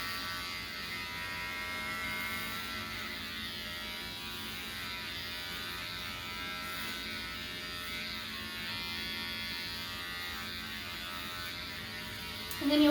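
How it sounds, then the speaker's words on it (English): Electric hair clipper running steadily during a home haircut, a continuous close buzzing hum with little change throughout and no speech. "So you're just going to take this clipper and you're just going to work it"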